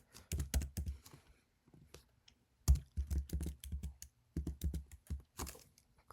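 Keystrokes on a computer keyboard while Java code is written, clustered clicks in quick bursts with short pauses between, close and crisp, no voices.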